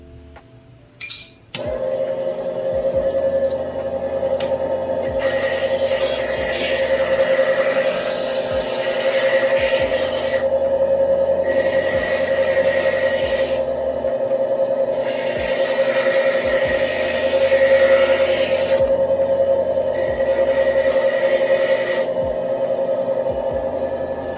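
Stained glass pieces pressed against a glass grinder, a steady motor hum with a gritty, watery grinding rasp that swells and eases in waves after a brief start.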